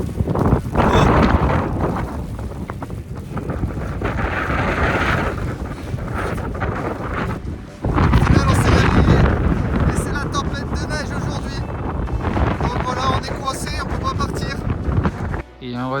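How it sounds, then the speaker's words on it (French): Heavy wind buffets the microphone in loud, rumbling gusts behind a van, with a voice speaking now and then beneath the roar. "parce qu'il y a trop de vent."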